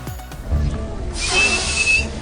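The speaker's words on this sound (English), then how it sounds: "It's a booger whistle." A faint whistle comes from a booger lodged in a person's nose, a thin steady tone carried on the breath and heard alone against quiet hiss for about a second.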